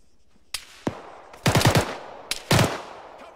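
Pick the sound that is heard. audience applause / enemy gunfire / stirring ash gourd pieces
enemy gunfire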